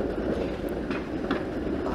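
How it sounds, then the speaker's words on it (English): A Toronto streetcar rolls by on Gerrard Street downtown, a steady low rumble of wheels and motor with faint rail clicks, heard at street level amid city noise. "that's a streetcar."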